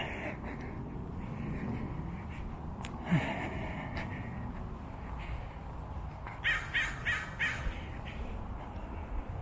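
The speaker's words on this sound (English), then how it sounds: "Noisy crows today." Several crows caw from a distance in a short run of harsh calls, with faint outdoor ambience and a soft thump earlier.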